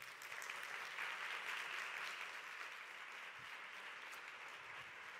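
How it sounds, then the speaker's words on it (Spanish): Distant, fairly faint applause from the audience at the LIFEM 2018 forum welcomes someone speaker, an even, sustained patter of many hands with no talking over it. "Un fuerte aplauso para ella."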